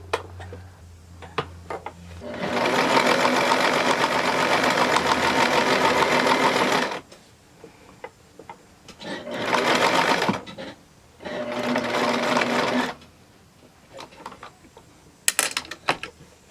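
Sewing machine stitching a Y seam in fabric, running in three bursts: a long steady whir of about four seconds, then two shorter runs separated by pauses with light clicks and handling sounds.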